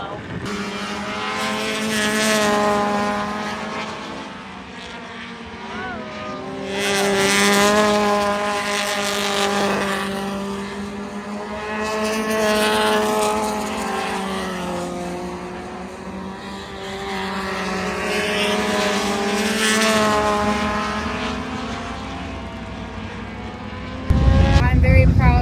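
Front-wheel-drive race cars lapping the Angola track, with loud engines droning and rising and falling continuously as they pass. A heavy rumble hits near the end.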